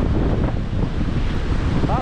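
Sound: wind blowing

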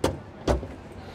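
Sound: car door handles popping out

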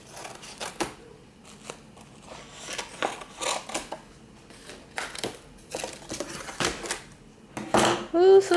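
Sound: cutting open a package of frames

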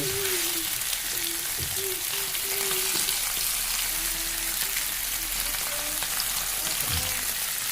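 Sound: garlic frying in a pan for lunch

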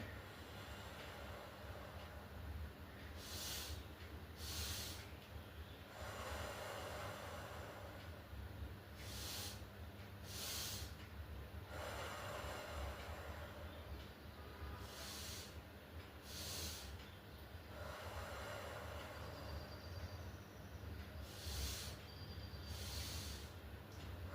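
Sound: pranayama breathing exhaled through the mouth

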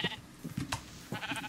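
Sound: sheep bleating in the video game Minecraft

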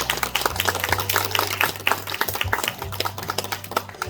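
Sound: audience applause welcoming the MC

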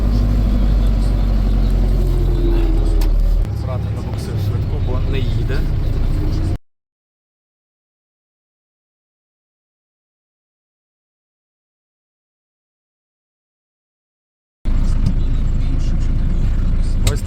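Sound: ambulance driving during evacuation

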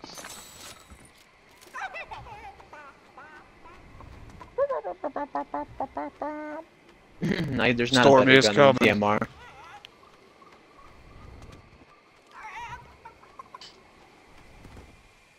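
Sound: chicken clucking in the video game Fortnite

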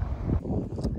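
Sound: wind blowing

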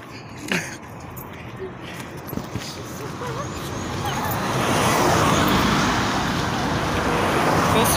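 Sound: road traffic noise

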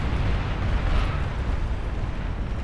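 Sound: nuclear missile launch in the video game Beyond All Reason

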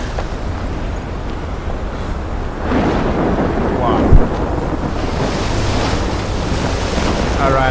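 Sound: ocean waves and wind in Life is Strange video game

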